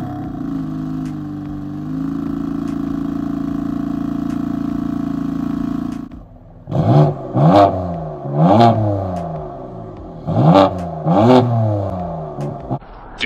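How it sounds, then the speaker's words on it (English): BMW E93 M3 convertible with a naturally aspirated V8: a steady, loud idle drone gives way to a series of sharp throttle blips, each rising and falling quickly, close by. "unlike this car where you have really nice sound, naturally aspirated V8."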